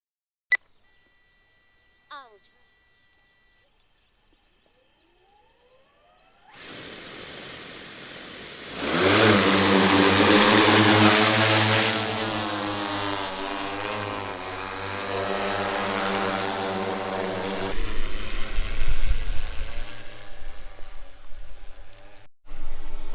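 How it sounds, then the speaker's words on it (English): A quadcopter drone fitted with a VoidRay WiFi 4G module hums steadily in the air after a quiet start, with a strong continuous propeller drone that swells and holds for most of the stretch. "We have the drone over there. So the drone is moving without the mission being started"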